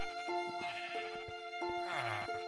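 A sheep in a farming video game bleats in wavering, tonal cries twice, standing out over a steady musical background.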